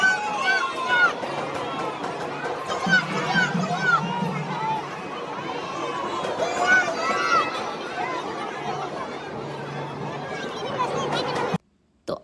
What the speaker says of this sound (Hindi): ये इतने सारे लोग आए हुए हैं, बहुत ज़्यादा ही भीड़ थी